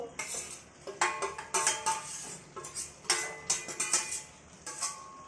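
Fried onions and capsicum tipped into a pan and stirred, giving repeated metallic scraping and clinks of a utensil against the pan in irregular bursts at close range, with no voices.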